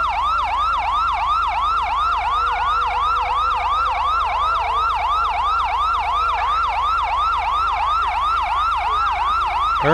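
A police siren in Grand Theft Auto V wails, cycling steadily up and down throughout, loud and continuous, with a low engine hum beneath it.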